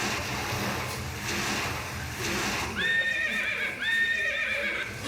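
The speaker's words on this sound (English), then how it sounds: "y el caballo" A horse neighs twice in a row, clear high whinnies rising over a muffled background of stage noise and surf-like rumble.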